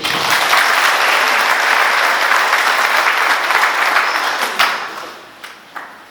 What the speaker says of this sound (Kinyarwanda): Tubakire n'amashyi menshi.